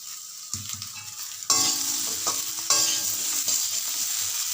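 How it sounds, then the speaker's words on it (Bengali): Potatoes and broad beans sizzle and crackle steadily in a hot pan while a utensil stirs and scrapes through them, with louder bursts as the mixture is turned. "আলু আর শিমটা একটু বেশি সময় ধরে নাড়তে হবে।"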